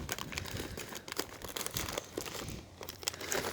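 Packaging around a ZZPerformance Z57 turbocharger being opened, with close, continuous crinkling and rustling of plastic or paper and brief tearing bursts.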